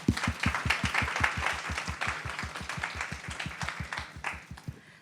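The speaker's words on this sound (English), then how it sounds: "we need to give ourselves a round of applause for getting here today" Steady, rhythmic applause fills the room at a residency program coordinators' annual education retreat, many hands clapping in a strong regular beat, close and sustained for several seconds before easing slightly at the end.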